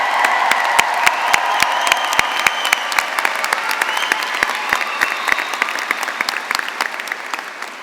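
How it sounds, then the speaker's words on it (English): Guests at a 2022 graduation ceremony applaud the graduating students, a steady dense clapping from a large crowd with some sharp nearby claps standing out, sustained throughout and slowly tapering at the end. "guests, let's give these students a huge round of applause"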